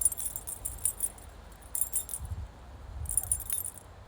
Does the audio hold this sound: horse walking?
no